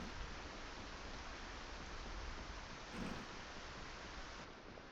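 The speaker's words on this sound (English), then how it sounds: "Otherwise, we wouldn't be able to hear the rain" Steady rain falls in Project Zomboid, an even, hissing wash of noise that stays constant from start to finish, faint and without voices.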